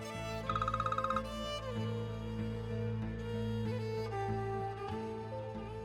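A phone rings several times in quick repeated bursts under a bed of dramatic music, near and clear, in a tense drama scene.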